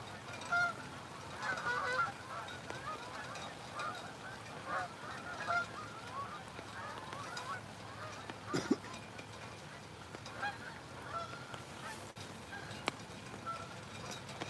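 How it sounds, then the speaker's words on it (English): A flock of geese honks repeatedly as it passes overhead near a Michigan fishing spot, a rising and falling chorus of calls over outdoor background noise. "Here comes the geese. Listen, you'll hear them coming right over my head."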